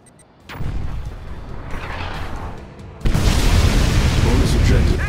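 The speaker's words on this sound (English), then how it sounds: "It's a nuke!" Massive nuclear missile blast in Command & Conquer 3: Tiberium Wars, a deep rumbling boom that swells abruptly and roars on loudly, following an earlier sustained rumble, with no talk over it.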